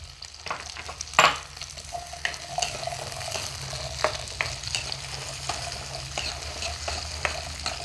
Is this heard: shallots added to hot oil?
yes